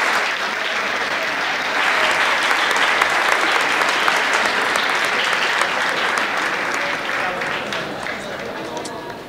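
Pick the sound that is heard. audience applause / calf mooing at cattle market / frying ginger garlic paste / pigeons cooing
audience applause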